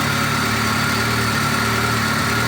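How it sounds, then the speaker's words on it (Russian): A cold 2-litre VAZ car engine idles steadily and evenly, close and loud, with a constant low hum and rapid regular firing pulses and no voices. "пока двигатель холодный, работает четко"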